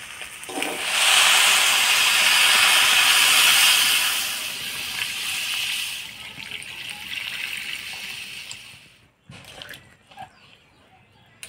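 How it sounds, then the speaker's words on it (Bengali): Water pours into a pot of rice, black gram lentils and vegetables for khichdi, a loud rushing splash for several seconds that tapers to a trickle, then a few clattering knocks of the pot. "এবার জল দিয়ে দিব"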